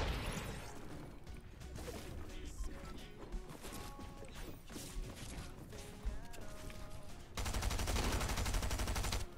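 Rapid bursts of gunfire from the video game Fortnite, dense overlapping shots and impacts mixed with game sounds, growing louder and more continuous toward the end.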